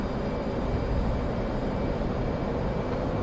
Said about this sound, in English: Nice takeoff.